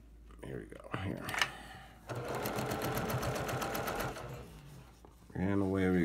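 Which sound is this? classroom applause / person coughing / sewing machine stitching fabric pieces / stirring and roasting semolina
sewing machine stitching fabric pieces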